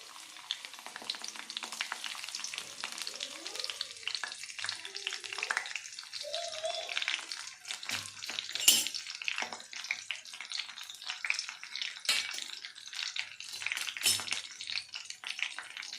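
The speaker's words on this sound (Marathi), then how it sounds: "तेल चांगलं गरम झालं आहे आपण आता त्याचे जिरे टाकू आता आपण याच्यात कढीपत्ता टाकू" Cumin seeds and curry leaves dropped into hot oil for a Marathi matki sabzi: a close crackling, popping sizzle with scattered spits and bursts of sharp spatter, the intensity rising as the leaves hit the pan, with some stirring clatter.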